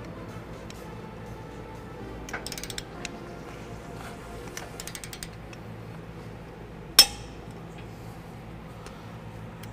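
A wrench tightens the trailer hitch bolts on a 2017 Ram 1500 front mount hitch, giving short bursts of ratcheting clicks against a low hum, then one sharp metallic clank.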